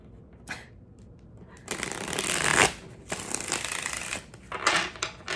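Tarot cards being shuffled by hand in several bursts of riffling and sliding, close and fairly quiet, with brief pauses between bursts and no talking.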